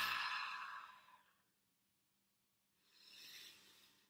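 Slow, deep human breathing during a guided resilience exercise, one long airy exhale fading into quiet, then a gradual rising inhale, close and soft with no talking.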